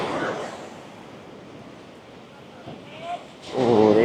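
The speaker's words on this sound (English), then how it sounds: "Super big waves." Ocean surf washes in softly at Balangan Beach, Uluwatu, Bali, then a stronger wave surges and breaks at the end, with a brief voice partway through.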